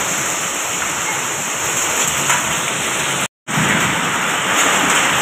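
A hailstorm drops large hailstones in Keranitola, Midnapore, West Bengal, making a dense, loud, continuous patter and roar with one brief gap of silence.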